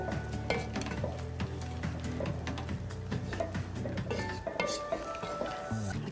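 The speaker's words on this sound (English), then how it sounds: "Give that a really good stir to combine everything really nicely." Pork meatballs stirred into a pot of soup, with a steady soft sizzle and repeated light scraping and clinking of a utensil against the pot, fairly quiet and without talk.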